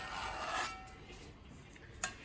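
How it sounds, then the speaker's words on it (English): A pen traces around the bottom of a baking pan laid on parchment paper, giving a soft continuous rubbing scratch close by, followed by a small tap. "I'm putting my pan on top of the parchment, and then I have a pen. I'm tracing around the bottom of the pan."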